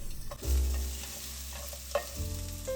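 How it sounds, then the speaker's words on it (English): Steady sizzling of onion sautéing in a pan, with occasional stirring clicks over a low background hum. "Saute the onion for about 2 minutes after it changes color."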